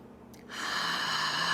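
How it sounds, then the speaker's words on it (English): A single long, deep inhalation draws in after a short pause, a steady airy rush that swells and holds close to the microphone, with no voice. "So let's take one more breath."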